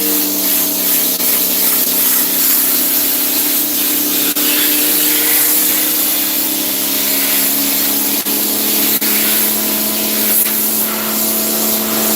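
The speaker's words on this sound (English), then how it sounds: "that's when I'll spray my degreaser on here" A steady, continuous hiss of degreaser spray on a press runs loudly for the whole stretch, close up, with a few faint clicks and a constant hum beneath.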